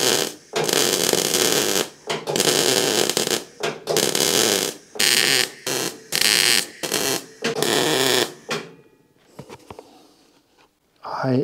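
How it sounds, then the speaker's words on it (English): Welding an end piece onto a steel suspension tube for a Citroën AZU, heard as loud bursts of crackling buzz in repeated runs separated by short pauses, then trailing off into quieter shop noise. "the first thing I want to do is to weld on an end piece on this tube"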